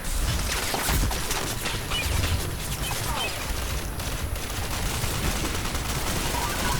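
Sustained automatic gunfire in the online shooter Ghost Recon Online crackles densely and close throughout, rapid bursts overlapping with mechanical clatter, while someone talks over the action.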